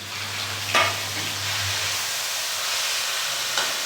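Grated bottle gourd sizzling and frying in a hot pan for halwa, a steady close hiss of frying with a couple of sharp stirring clinks and a low hum underneath, no talking.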